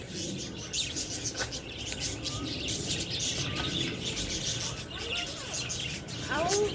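Parakeets chirp in high, thin calls against a busy background of low rumble and faint voices. The chirps are short and scattered, moderately close, with a few clearer calls near the end.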